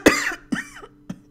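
A tabletop role-playing game player imitates an orb coughing: three short, throaty coughs spaced apart, the first strongest and the later ones softer, voiced close up and otherwise quiet.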